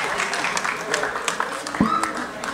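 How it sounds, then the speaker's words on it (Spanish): Applause and scattered clapping for the AMC stable at the Hándicap de las Américas horse race, a steady wash of hands beneath crowd voices and other talk. "un fuerte aplauso para la cuadra AMC"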